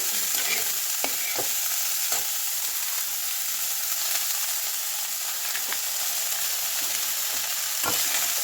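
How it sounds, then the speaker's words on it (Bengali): Chopped cabbage fries in a pan with a constant bright sizzle, while the spatula stirs through it in a few scattered scrapes and knocks. "কেটে রাখা বাঁধাকপি অল্প অল্প করে দিয়ে নেড়ে চেড়ে নিয়ে আবার বাকি বাঁধাকপিটাও তুলে দেব"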